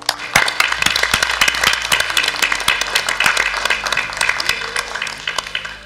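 Applause fills a French municipal council meeting as members clap for the two assessors counting the ballots, a dense, steady burst of many hands with sharp individual claps standing out, sustained throughout and fading slightly at the end.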